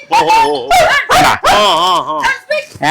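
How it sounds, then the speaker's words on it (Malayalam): Loud, close yelping barks from a native Indian dog come in quick bursts with a wavering, howl-like pitch and short pauses between them. "നാടൻപട്ടി ഇങ്ങനെ കുരക്കത്തുള്ളൂ."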